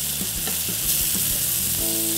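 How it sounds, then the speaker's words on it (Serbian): Chicken frying in a pan until golden on all sides, a steady close sizzle with light stirring clicks running throughout, no voices. "Koliko će se piletina pržiti? Pa malo. Evo, čisto da dobije ovu zlatnu boju."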